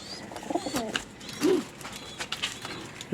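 Domestic pigeons, including a racing pigeon, coo softly in a loft while they are being paired. The low, rolling coos repeat close by over a background of light chirping and shuffling.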